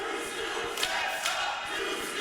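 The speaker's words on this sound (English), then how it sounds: "Listen to this crowd." A large indoor wrestling crowd roaring and cheering continuously, a dense wash of voices with a few louder swells.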